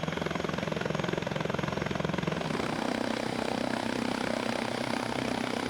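US and German attack helicopters take off together, their rotors producing a loud, continuous beating roar with rapid blade chop and a dense engine whine throughout.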